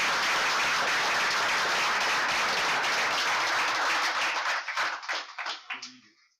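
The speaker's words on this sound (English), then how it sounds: "Let's give a little applause for the boys in there." An audience at a city council meeting in Lindsay claps for the boys, a steady applause close and even that thins into scattered individual claps before fading out.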